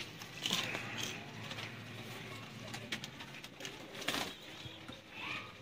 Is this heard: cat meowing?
no